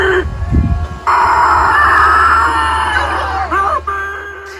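A battery-operated Halloween decoration on a front lawn lets out a loud, sustained electronic scream lasting several seconds, with a strained crowing quality that dips briefly before breaking off near the end.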